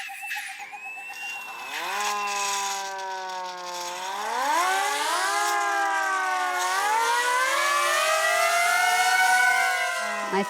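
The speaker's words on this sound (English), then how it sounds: "What I loved about this manual siren, so not an electronic one, is that you can really play with the rotations per minute" A manual hand-cranked rotary siren wailing, pitch rising and swelling as the rotation speeds up, then holding a loud, sustained howl close by.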